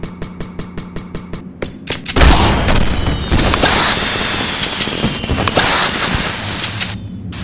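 Grenade blasts and gunfire in the online shooter Counter-Strike Online 2: a rapid burst of regular shots, then a loud explosion boom followed by rumbling, crackling battle noise with scattered further shots and bangs.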